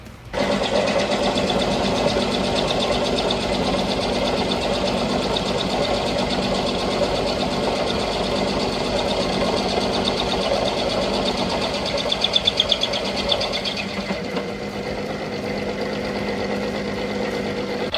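Glendinning actuators converted to electric shift whir steadily on a bench dry-run test, a loud continuous mechanical motor drone that holds for most of the stretch, with a brief rattling burst before it softens slightly near the end; no talking.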